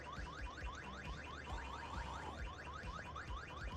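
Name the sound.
car alarm going off in video game VEIN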